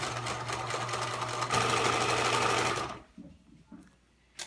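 Sewing machine stitching a drawstring bag, a loud steady mechanical whir running forward then back for about three seconds before stopping, followed by quieter handling noises.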